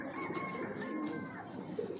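Giribaz pigeons coo in soft, low, repeated murmurs, close by, with a steady hum of birds underneath.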